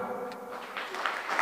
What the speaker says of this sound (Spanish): Recibamos con muchos aplausos